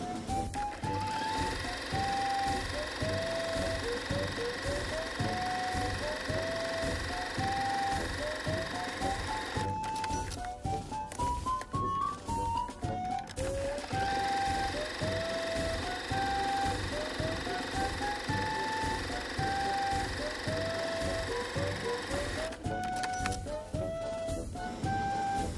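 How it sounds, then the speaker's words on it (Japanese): A sewing machine stitches along fabric edges to keep them from fraying, a steady, close mechanical whir running continuously with background music over it. "でミシンで縫っていきます。"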